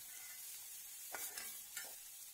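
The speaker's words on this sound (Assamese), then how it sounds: "এনেদৰে 2 মিনিটমান সময় মই এই গোটেইখিনি লৰাই থাকিম" A spoon stirs mashed boiled potato and bitter gourd filling in a pan, giving a few soft scraping strokes over a steady hiss of frying, with no voices.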